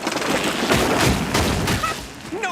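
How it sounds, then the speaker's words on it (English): A cartoon gadget called a sandwich blaster fires in a rapid burst of loud blasts and booms, a dense barrage followed by a quick whooshing, zipping effect at the end. "Sandwich blaster!"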